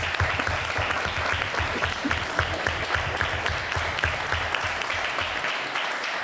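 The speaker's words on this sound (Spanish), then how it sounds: "le damos un aplauso a Nieves" Steady applause from a live audience at a school educational podcast event with author Nieves Concostrina, dense continuous clapping at close range that carries evenly throughout before tapering slightly at the end.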